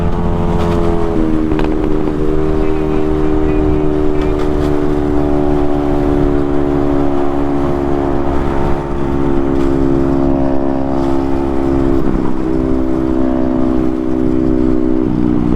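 A Honda Navi's small engine revs hard toward high RPM, a loud, close, steady buzzing drone with shifting harmonic tones that sweep up and settle, held without a break for the whole stretch.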